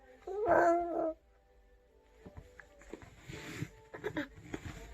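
A young voice imitates a dog with a drawn-out howl, followed by quieter scattered yips and murmurs.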